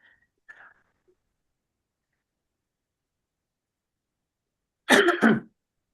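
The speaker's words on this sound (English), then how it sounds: "Oh, that annoying cough's back" A single short, harsh cough bursts out close by after several seconds of near silence, preceded by a faint small noise.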